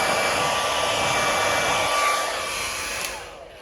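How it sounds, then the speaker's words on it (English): A hair dryer blows steadily with a whooshing hiss and faint whine, then cuts off near the end as the motor winds down. "Got the wife's hairdryer here."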